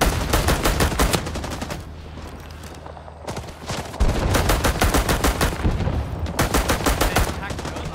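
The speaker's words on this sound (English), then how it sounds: "At least the fucking M1 carbine's doing some work." Rapid semi-automatic M1 carbine fire in the Vietnam War shooter Rising Storm 2 on the Dong Ha map, sharp repeated shots in bursts, close and loud amid background battle noise.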